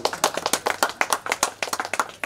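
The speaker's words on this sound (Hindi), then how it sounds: "एक बार तालियां हो जाए।" Audience clapping at a clothing donation event for children in tribal villages, a quick burst of close, crisp handclaps in irregular rhythm over about two seconds.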